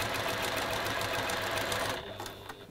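A sewing machine stitches a quarter-inch seam on patchwork quilt blocks, a fast, even mechanical whir running steadily at close range before easing off near the end.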